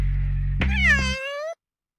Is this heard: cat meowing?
yes